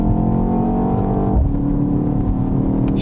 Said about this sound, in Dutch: Dat geluid, dat trekken aan het stuur, die plofjes bij het gas loslaten.